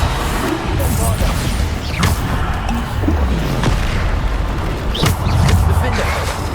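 Booming blasting-spell explosions from the video game Hogwarts Legacy, several sharp impacts spread across the stretch over constant game noise and talk, with a louder burst near the end.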